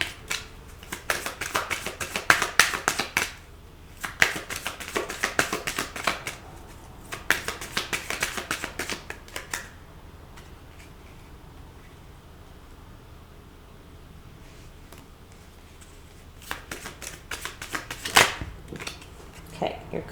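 Tarot cards are shuffled in repeated bursts of rapid riffling and flicking close by, with quieter pauses in between.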